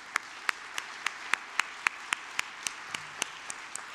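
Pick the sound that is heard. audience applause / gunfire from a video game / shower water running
audience applause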